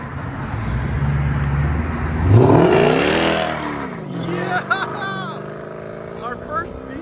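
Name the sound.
2007 Mercedes S550 5.5L V8 revving with X-pipe and straight pipes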